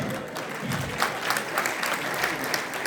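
A crowd at a stand-up comedy festival applauds, a thick wash of clapping with a few louder bursts, lasting a few seconds.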